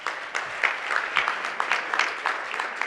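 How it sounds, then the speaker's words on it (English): Audience applause for the speakers at the close of a climate change and inequality debate, a modest crowd clapping steadily with uneven bursts through the whole stretch. "I think they deserve a big round of applause to end this day."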